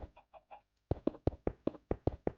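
Chickens cluck in the Minecraft video game: a few soft clucks, a short pause, then a run of louder, evenly spaced clucks at a steady rhythm, alone without talk.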